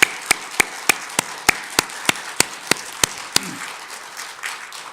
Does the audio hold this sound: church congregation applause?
yes